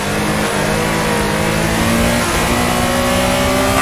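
A 1974 Porsche RSR race car engine revs hard in a racing simulator, a loud continuous high-pitched howl with pitch rising and shifting as the car accelerates, no voices.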